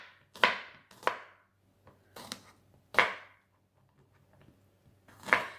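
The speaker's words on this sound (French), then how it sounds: "on va hacher grossièrement notre ail" Garlic is roughly chopped with a knife on a board, five or six sharp, separate knocks at uneven intervals, close and clear against a quiet room.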